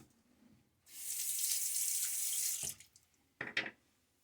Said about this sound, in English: And now a little bit of rinse.